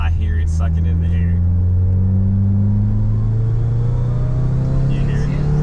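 Intake roar from a 2017 Subaru WRX with a Cobb BigSF intake, a steady low engine drone with a faint rising whoosh of air being drawn in, heard from inside the car while people talk.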